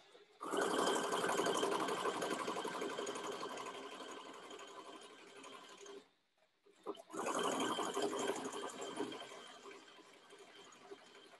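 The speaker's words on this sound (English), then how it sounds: "I'm going to go ahead and do a test buttonhole" A domestic sewing machine stitching a test buttonhole, a steady whirring hum running for several seconds, pausing briefly with a click, then resuming at the same even pace, close and alone.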